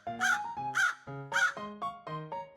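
A crow caws loudly and close up, about six harsh calls in a quick, even rhythm, with no other sound.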